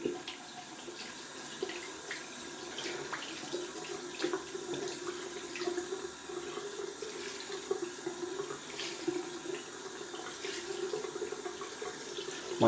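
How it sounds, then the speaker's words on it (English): Tap water runs steadily from a faucet into a sink to rinse a shaving brush after a shave, a constant close splashing flow with occasional brief clicks and knocks. "Just gonna let that dry down and rinse out my brush."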